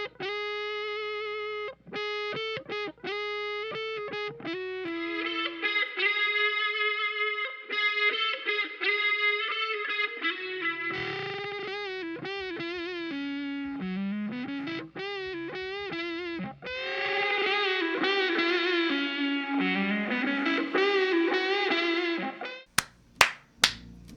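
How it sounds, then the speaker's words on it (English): Electric guitar track shaped with subtractive EQ and a touch of room reverb, playing sustained melodic lines and chords with slight distortion, steady and upfront, no talking. "adding the room reverb in just enough that the guitar stays at the front of the mix"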